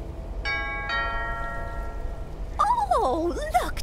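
A video game doorbell gives two bright chiming dings, then a voice-like game sound follows; moderate level over a faint background hum.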